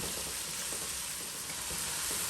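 Guyanese green seasoning frying in hot oil, a dense, steady close sizzle and crackle that stays loud and even throughout with no voices.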